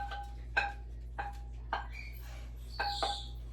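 Stuffing ingredients being stirred together in a bowl, heard as a handful of separate clinking, scraping utensil knocks spaced about half a second apart over a low steady hum.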